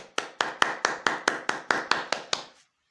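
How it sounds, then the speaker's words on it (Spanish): Ten sharp, evenly spaced claps ring out close and alone at a steady rhythm, an invitation to applaud God during a Catholic religious program, ending abruptly into silence. "dele un aplauso para Dios"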